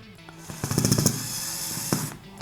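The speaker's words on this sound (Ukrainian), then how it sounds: "Так само спробуємо на середній швидкості викрутити та закрутити." A Mechanic iDrive 2-in-1 electric screwdriver runs at medium speed, unscrewing and driving a screw in a quiet, pulsing buzz. A cluster of rapid rattling bursts is followed by one brief final whir.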